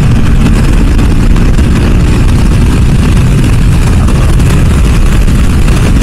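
A KTM RC 390 BS3 motorcycle with a 390cc engine cruises down a highway, its loud, steady engine drone mixed with heavy wind rush.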